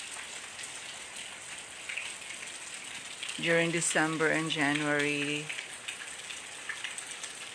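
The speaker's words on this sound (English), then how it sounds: "because I could experience the rain" Steady rain pours throughout at moderate volume, a broad continuous hiss of drops on surfaces, with a person speaking briefly over it midway.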